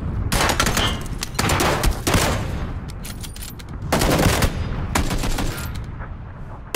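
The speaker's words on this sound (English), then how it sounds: "his last hope is a bolt-action sniper" Heavy gunfire in the PUBG battle royale game: repeated loud, sharp rifle shots in bursts and single cracks with echoing tails, near and dense, no talking.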